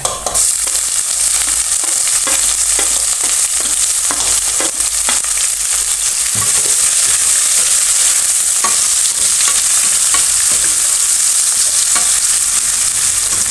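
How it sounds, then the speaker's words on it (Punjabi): Onions frying with browned garlic in a pan for kadhi, a loud, constant bright sizzle close up with occasional soft scraping stirs and no talk. "ਲਸਣ ਬਰਾਊਨ ਹੋ ਗਿਆ ਹੁਣ ਪਾਵਾਂਗੇ ਪਿਆਜ਼"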